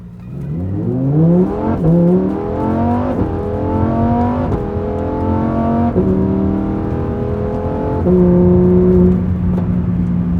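A Lamborghini Huracan accelerates hard through several gears, its engine note climbing and dropping at each shift with a loud, buzzing roar heard from inside the car and no talk.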